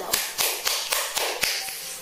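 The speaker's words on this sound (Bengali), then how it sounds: "সবাই একটা হাততালি দাও।" A small group clapping for a stage performer, a handful of sharp, fairly evenly spaced claps rather than a full ovation, close and moderately loud.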